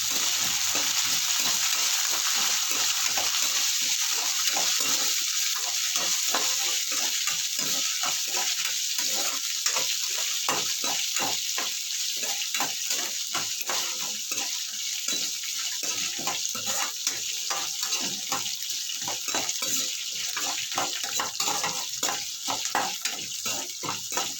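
Shallots, garlic and ginger frying in a pan, a bright, crackling sizzle with rapid popping and spattering that runs on steadily for over twenty seconds, close and without talk.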